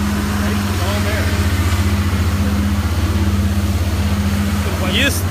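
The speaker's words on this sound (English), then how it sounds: "We're paused for commercial break as the truck that makes a lot of noise goes by." A loud truck passes on a San Francisco street, its deep engine drone and throbbing rumble steady throughout over background street noise.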